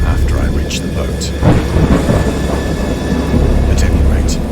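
Deep rumbling thunder rolls through a great storm, with heavy low booms and crackling bursts that swell and fade in waves, close and loud.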